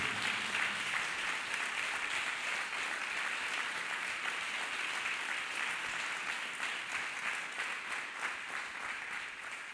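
A church congregation claps hands for Jesus Christ, a thick, continuous wash of clapping from many people that holds steady for nearly ten seconds and eases slightly toward the end.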